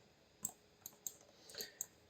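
Light, sparse keystrokes on a computer keyboard, about six quiet clicks spaced irregularly over a faint background hiss, with no speech.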